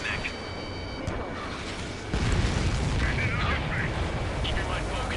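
In the Ace Combat video game, a missile explosion destroying an enemy transport sets off a sudden booming burst that swells into a sustained rumbling blast. Radio chatter plays over it.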